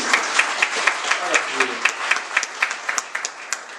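Church congregation at a Sunday worship service claps in a steady rhythmic beat, moderately loud, while a voice speaks over the clapping.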